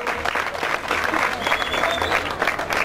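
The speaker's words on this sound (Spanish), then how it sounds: "Un aplauso para todos los esfuerzos." An audience at the Santiago Teide vertical trail race awards applauds in a continuous, moderately loud clatter of clapping over a low background rumble, with crowd noise mixed in.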